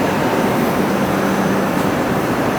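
Hong Kong Light Rail Phase 5 train on route 505 passing platform 2 at Kin On stop toward Sam Shing: a loud, steady rumble and wheel noise filling the whole moment, with no pause.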